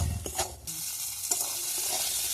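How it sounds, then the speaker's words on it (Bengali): Cauliflower florets and peas frying in hot oil with salt and turmeric, stirred with a utensil; steady close sizzle with a few scraping stir strokes, no talking. "ওর মধ্যে আমি দিয়ে ভালো করে এবার এগুলো ভেজে নেবো আগে"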